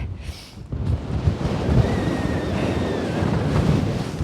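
Strong gusting wind on the exposed summit of West Lomond in the Scottish hills, a loud, continuous roar buffeting close to the microphone with no break.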